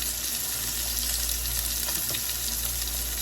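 Seasoned chicken tenders bubbling and sizzling in a pan, a continuous even frying hiss with faint crackles, steady and close without talk.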